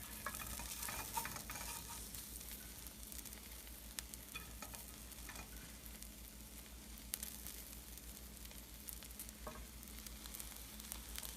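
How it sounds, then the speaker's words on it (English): Eggs and bacon fry in a pan for a breakfast burger, giving a steady, close crackling sizzle with scattered sharp pops throughout and no talk. "Close up of that egg frying action."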